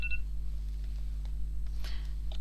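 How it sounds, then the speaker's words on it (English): A phone alarm goes off briefly indoors, a short pair of electronic tones at the very start over a steady low mains hum, followed by faint handling sounds. "my alarm just went off on my phone"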